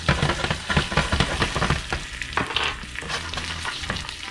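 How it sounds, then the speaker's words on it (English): Jack crevalle fish sizzles steadily in a hot pan close by, a dense crackling hiss with a few soft scraping and stirring noises. "it's sizzling up real nice"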